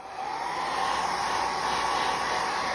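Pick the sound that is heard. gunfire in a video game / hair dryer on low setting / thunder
hair dryer on low setting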